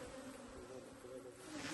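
Honeybees buzz around an open hive while frames are worked, a continuous, fairly faint and even drone with no voices.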